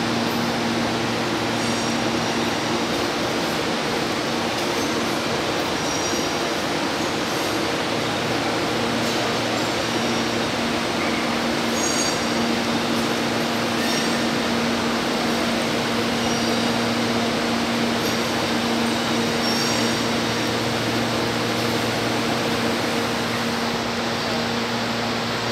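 São Paulo Série 2000 train running empty toward the Roosevelt depot, a steady loud rumble with constant tonal hum, droning without pause throughout.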